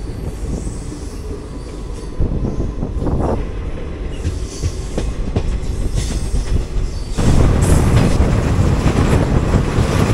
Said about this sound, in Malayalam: താമ്പരം നാഗർകോവിൽ അന്ത്യോദയ എക്സ്പ്രസ് ആയിരുന്നത്.